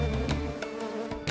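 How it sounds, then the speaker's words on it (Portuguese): A swarm of stingless bees kept at home, buzzing in a steady close drone with a few brief louder swells as individual bees pass near. "Você teria coragem de ficar assim, diante de um enxame de abelhas?"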